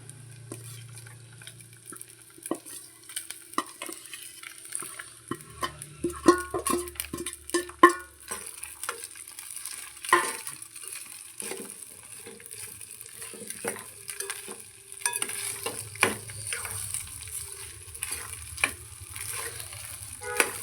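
Cooked, cooled rice for garlic rice is stirred and fried in a hot pan: a soft, steady sizzle under repeated scraping and tapping of the spoon against the pan, close and clear, with no talk.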